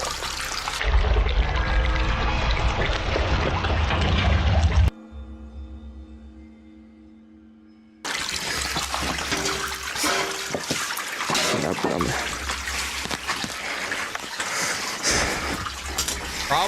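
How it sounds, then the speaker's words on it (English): Water runs continuously as a pool fills, a broad rushing pour that cuts out briefly to a quieter tone before surging back at full strength, near and loud. "The water's running."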